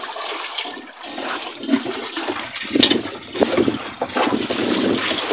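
Water sloshing and splashing inside a leaking wooden outrigger boat out at sea as it is bailed, a steady rushing wash with irregular surges and scoops, mixed with wind noise on the microphone.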